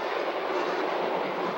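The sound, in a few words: Shinkansen bullet train passing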